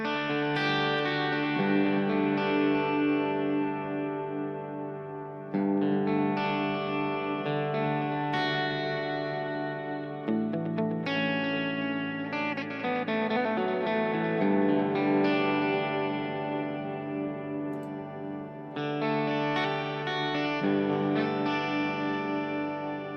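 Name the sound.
electric guitar with harmonizer effect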